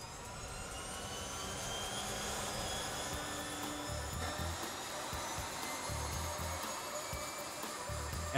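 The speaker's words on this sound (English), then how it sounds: "It's nice to hear that sound of that engine running" Restored de Havilland Beaver airplane engine running on the ground for the first time in decades, a steady droning roar with a few deeper low-end pulses partway through.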